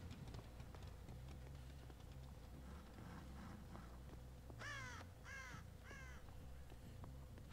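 Crows in the horror video game Dead by Daylight give three harsh caws in quick succession midway through, over a low, steady game ambience with faint ticking.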